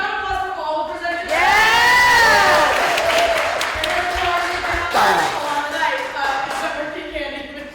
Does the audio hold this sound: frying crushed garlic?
no